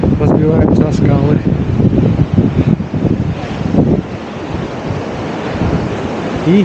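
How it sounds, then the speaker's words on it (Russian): Surf crashes and rushes steadily close by, a continuous roar of waves breaking on rocks along a coastal cliff trail in Aktau, with someone talking over it in the first few seconds. "Красивые волны здесь разбиваются о скалы."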